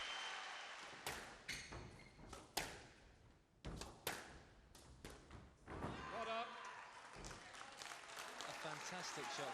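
A squash crowd at the 1997 British Open men's final breaks into bursts of clapping and cheering, then sustained applause, with a commentator talking over it.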